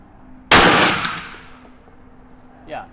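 A single loud gunshot fired indoors at a target, a sharp crack followed by a long ringing decay, then a faint brief voice afterward.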